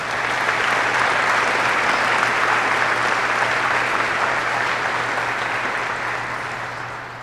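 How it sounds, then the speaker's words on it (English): A graduation ceremony audience gives sustained, dense applause, loud and even throughout and tapering slightly at the end, with no talking over it. "Please join me in a round of applause for this outstanding team."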